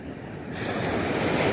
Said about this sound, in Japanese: 波打ち際。